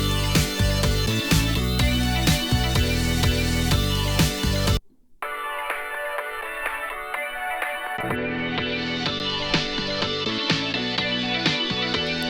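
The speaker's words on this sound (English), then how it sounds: "I then sped it up and compressed it a lot to get this effect." A disco sample, sped up and heavily compressed, plays as dense, punchy looped music. A brief gap and a filtered, thinned-out passage interrupt it before the full sound returns, loud and continuous with no voices.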